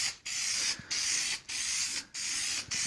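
An aerosol can sprays a tint coat onto a car taillight in four bursts of steady hiss, each lasting about half a second and separated by brief pauses, close and fairly loud.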